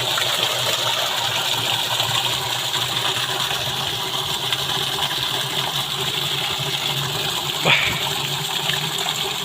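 Water gushes from a pipe into a drum on a farm, a loud, continuous rushing and splashing that holds steady throughout, with one brief knock partway through.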